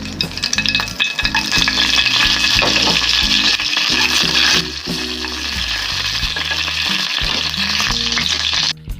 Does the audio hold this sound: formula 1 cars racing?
no